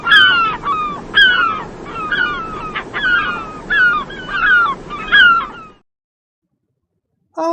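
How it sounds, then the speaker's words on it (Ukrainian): A gull gives a run of sharp, harsh calls in quick succession over a steady background hiss, then falls silent before one brief final call. "А ось і чайка."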